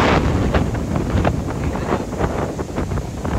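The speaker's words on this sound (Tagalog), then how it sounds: "Ayun, so windy nga." Strong typhoon wind in Boracay buffets the microphone with loud, continuous roaring gusts and rumbling low-end noise, close and unbroken throughout.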